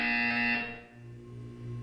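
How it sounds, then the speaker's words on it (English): A buzzer in the video game Portal 2 sounds once, loud and harsh, for about half a second, then fades into a low electronic hum with no talk. "When you hear the buzzer, look up at the ceiling"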